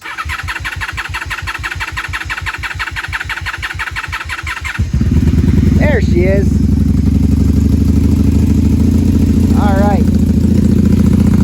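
A 1997 Honda Magna 750 (VF750C) V4 motorcycle cranks with the choke on, then catches and settles into a loud, steady idle through its four exhaust pipes, with someone talking briefly over it.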